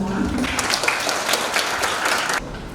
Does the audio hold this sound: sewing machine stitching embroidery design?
no